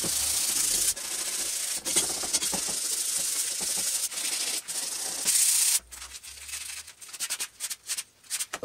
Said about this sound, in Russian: Примитивная шлифовка готова.